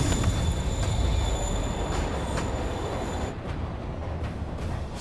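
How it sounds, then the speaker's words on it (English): Train in Marvel's Spider-Man video game pulling away from a platform: steady heavy rumble and rattling wheels with high metallic whine, easing slightly near the end, no talk. "Train's moving."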